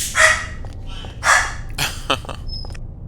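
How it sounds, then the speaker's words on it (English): A dog barks and yips in Xenosaga Episode I, giving a few distinct close barks with a pitched, almost sung quality, loud and alone against a quiet background. "Listen to my doggy sing."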